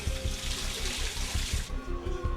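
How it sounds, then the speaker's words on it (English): Water runs steadily from a shower in a home early in the morning, a continuous hiss and splash heard nearby with a faint rhythmic thumping underneath. "hears her brother in the shower"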